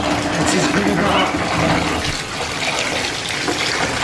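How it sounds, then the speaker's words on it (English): Running water steadily filling a bathtub for a pet monkey's bubble bath, a loud continuous gush with a voice speaking over it throughout. "I got to run you some more water, Boo"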